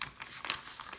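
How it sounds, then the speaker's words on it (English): Paper being mountain-folded in half while making a snub-nosed paper jet, a brief burst of soft, faint crinkles and rustles close by. "now you mountain fold the paper in half from left to right"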